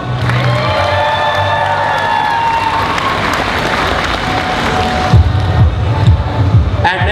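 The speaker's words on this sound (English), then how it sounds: "can we give one great big round of applause right now?" An audience at a cosplay session of a gaming expo bursts into sustained applause with cheering and whoops, a dense crowd roar that stays loud throughout, with voices shouting over it.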